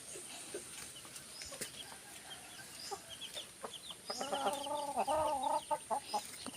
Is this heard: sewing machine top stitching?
no